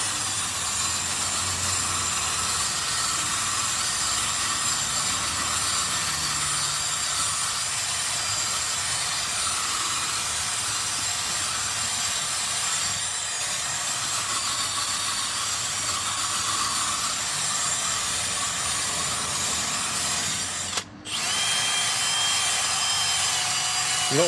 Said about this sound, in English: You don't want to go too fast with the drill.